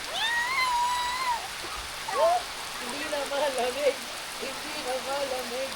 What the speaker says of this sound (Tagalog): So ayun guys, umulan na nga.